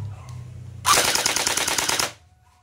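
A Cyma JD100 M4 airsoft rifle fires one sharp full-auto burst of about a second, a rapid, loud, close-up clatter of shots, then falls silent.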